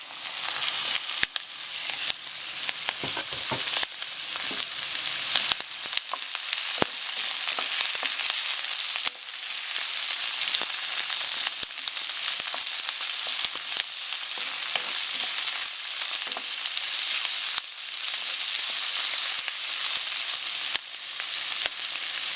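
Shrimp and onion sizzle loudly and continuously in a hot pan, with bursts of crackling and occasional stirring clatter breaking through the steady fry.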